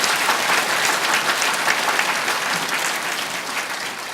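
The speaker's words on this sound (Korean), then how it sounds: "모두 박수 한번 쳐드리십시오." Applause from a church congregation at a Marian evening service, a dense, sustained wash of many hands clapping at a steady level throughout, with no voices on top.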